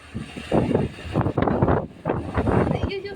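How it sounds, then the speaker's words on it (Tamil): Strong wind buffets the microphone outdoors during rain, loud gusty rumble surging in waves beneath voices talking throughout. "ஐயோ செம்ம காத்து"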